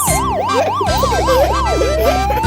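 A loud police car siren wails in rising and falling sweeps as part of a children's song, repeating several times with a steady low hum beneath it.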